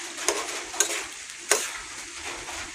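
Curry stirred in a cooking pot over a gas flame, a sizzling bubble underneath with three sharp scrapes of the spoon against the pot, close and alone.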